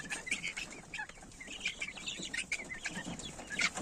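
Legbar chickens in a four-metre cage coop, with a laying hen among them, keep up soft, overlapping clucks and short chirps close by at a low, steady level, with no talking.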